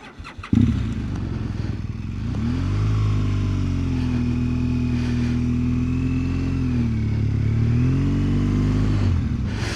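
A BMW R1200GS motorcycle heard close from the rider's helmet: a thump, then the boxer engine settles into a steady drone that rises and falls in pitch as it accelerates and eases off.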